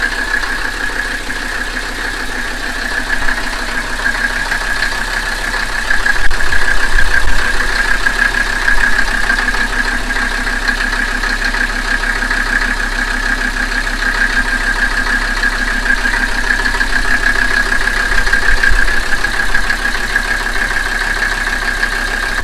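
A Mercedes 300SD diesel engine idling, a steady, loud rumbling clatter with a constant whine on top, running evenly and close by without any talk.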